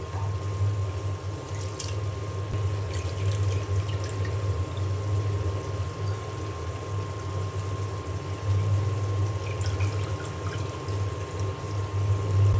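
Water running steadily from a kitchen tap while cut potatoes are rinsed and rubbed by hand, a constant close pour with light splashing, no talk.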